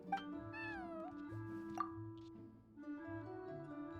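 A cat meows in the Genshin Impact video game, a few short rising and falling mews over steady game music, moderately close and clear.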